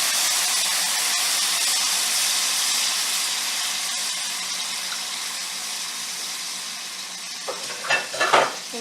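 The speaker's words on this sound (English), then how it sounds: "you're going to pour your lemon and wine into the" Lemon juice and wine hit a hot skillet for deglazing, giving a steady broadband sizzle with liquid splashing, then a few sharper bursts of bubbling and hissing near the end, with no talking.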